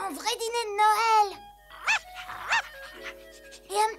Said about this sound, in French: Et un petit chien.